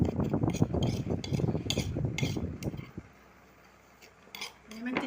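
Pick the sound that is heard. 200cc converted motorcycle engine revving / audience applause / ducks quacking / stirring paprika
stirring paprika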